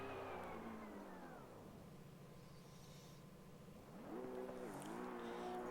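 Wheel spin from a racing car in the driving game GT2 on a fast track: the engine note drops, then climbs in pitch as it revs up again, steady and moderately loud with no talk.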